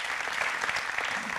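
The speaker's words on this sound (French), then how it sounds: "On peut vous applaudir aussi." Audience applause at an energy-prize award ceremony, a steady burst of clapping from a crowd filling the room, loud and continuous.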